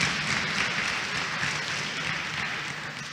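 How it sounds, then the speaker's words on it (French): Audience applause at a diploma ceremony for a professional degree in nursing care, a steady, dense wash of many hands clapping in a hall, moderately loud and fading slightly toward the end. "Je vous prie donc de l'applaudir."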